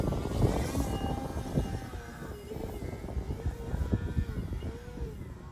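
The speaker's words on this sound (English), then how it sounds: "It's been a while since I flew a 3D plane." A 3D foam RC airplane flies in strong wind, its propeller whining and buzzing at middling distance with wavering pitch as it passes, alongside gusting wind noise.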